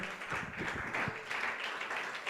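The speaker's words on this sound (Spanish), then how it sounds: "eso merece un aplauso al Señor" A church congregation applauds during a sermon, a steady wash of clapping hands that holds at an even level for a couple of seconds, with a faint voice briefly underneath.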